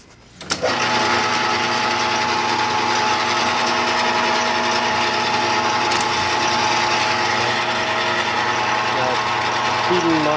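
Lathe switching on with a sharp start, then running on feed with a steady, loud mechanical whir and gear rattle close by, continuing evenly to the end.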